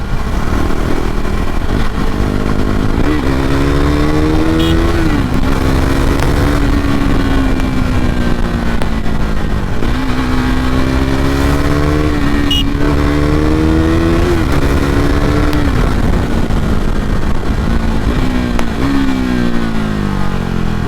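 A KTM RC 390 sport motorcycle engine roars continuously at high speed, its pitch rising and falling as the rider shifts gears, loud and close with wind rush throughout.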